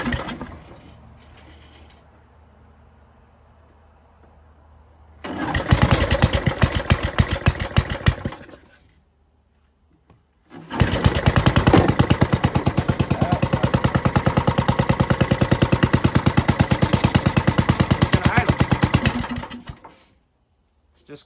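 A 1980s Cub Cadet tiller's small engine coughs into life, dies back, then restarts and settles into a loud, steady idle that runs for about ten seconds before cutting off.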